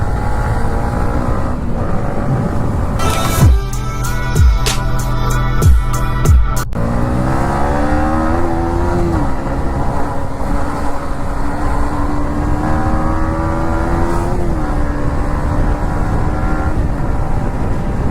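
A Yamaha MT-15 motorcycle being ridden on a small road, its engine droning steadily with pitch rising and falling through gear changes, near and continuous, with a short burst of rapid revving early on and no talk.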